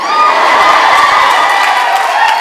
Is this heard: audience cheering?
yes